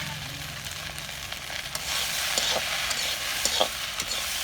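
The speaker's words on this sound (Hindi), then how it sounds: "अब ये डाल देबो संगवारी बन हमन भिंडी ला काट के धो के रखे हन तेला।" Sliced okra fries and sizzles steadily in hot mustard oil, with scraping stirs and crackling bursts throughout, a close, continuous frying hiss without talk.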